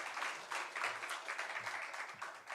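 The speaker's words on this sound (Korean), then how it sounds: "우리 하나님께 영광의 박수 올려드리겠습니다." A church congregation claps during a Sunday worship service, a fairly faint, uneven patter of applause with soft swells, heard from a distance with no voices over it.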